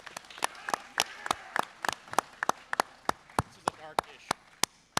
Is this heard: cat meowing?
no